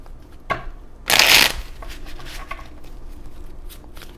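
Tarot cards are riffled and shuffled, with one loud burst of shuffling as several cards spill out of the deck, followed by softer handling sounds in a quiet room.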